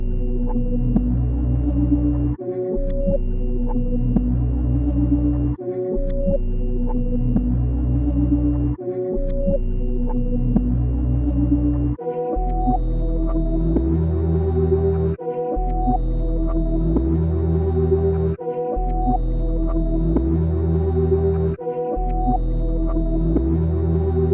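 A droning synth texture from a preset called Astral Plane, heard without effects, pulsing in regular swells with brief dips every few seconds, sustained and fairly loud throughout.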